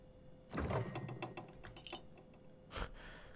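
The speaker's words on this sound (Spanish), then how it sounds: "Qué bueno el sonido de abrir la nevera." A fridge door opens with a soft mechanical clunk and rattling clatter inside the sci-fi video game The Outer Worlds, followed by a sharp click, all heard close and fairly quiet.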